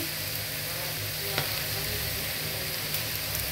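Fish cutlet filling, seasoned with turmeric, sizzles and fries in a pan with a steady, soft hiss and one or two faint clinks.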